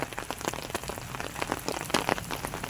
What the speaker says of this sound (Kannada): ಈ ಥರ ಯಪ್ಪ ಭಯಂಕರ ಆನಕ್ಕಲ್ಲಲ್ಲೇ ಇದು ಮಳೆ ಇಲ್ಲ